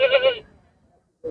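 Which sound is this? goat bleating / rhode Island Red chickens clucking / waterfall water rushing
goat bleating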